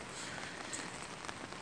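Cold, oily rain falling in freezing wind in Canberra, Australia: a faint, steady, even hiss of drops on surfaces, with no voices.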